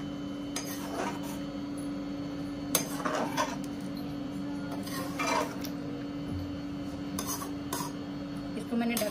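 A spoon stirs coriander into a dhaba-style egg and potato curry in a pan, giving scattered metallic clinks and scrapes against the pan over a low, constant hum.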